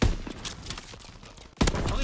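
A sniper rifle fires in Call of Duty: WWII, with two loud, sharp shots, one at the start and another about a second and a half later, separated by quieter game noise.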